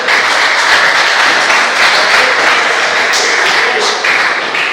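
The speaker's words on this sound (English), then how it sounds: "Give them a round of applause." Loud, close applause from a crowd at a county GAA championship draw event, a continuous dense patter of clapping hands with no pause.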